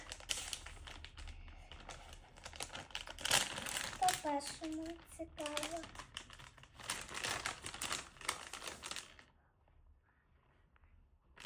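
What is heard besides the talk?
plastic blind-bag packets being opened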